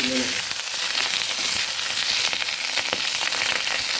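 Fish heads fry hard in mustard oil in a kadai, a loud, dense, continuous sizzle with faint crackles and no talking.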